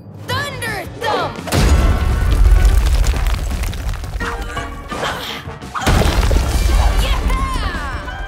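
Cartoon thunder-thump blast impact in a remix, a heavy booming crash that bursts in loud and sustained amid energetic music, followed by a second crashing hit later.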